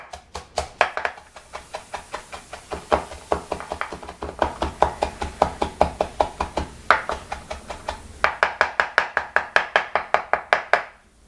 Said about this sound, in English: So I'm just going to start chopping it up.